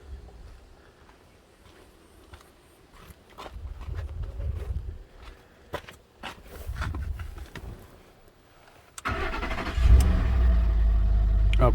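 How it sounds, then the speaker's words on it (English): A 2011 Ford F-150 with the 5.0 engine is cranked and fires up near the end, settling into a loud steady idle after earlier quieter clicks and rustling in a workshop. "Let's see if the engine will start."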